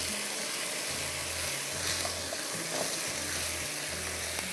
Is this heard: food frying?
yes